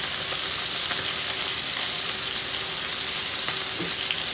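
Salmon fillet sizzles steadily in melted butter in a hot pan, a dense continuous frying crackle with no pauses and no talking, close and fairly loud throughout.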